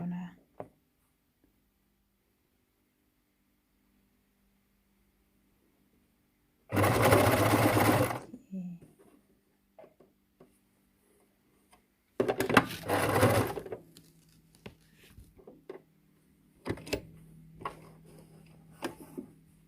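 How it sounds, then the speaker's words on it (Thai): A sewing machine stitching a cloth face mask runs in a few separate bursts of rapid mechanical whirring, close and fairly loud, separated by quiet stretches with faint handling noise. "หลังจากที่เราเย็บก็ตอนนี้ก็จะเป็นการเย็บ"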